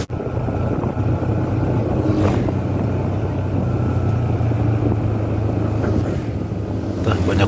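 Several motorbikes ride along a forest road on the route from Bandung to Subang via Bukanagara, a loud continuous engine drone with wind buffeting the microphone and brief swells as bikes pass close.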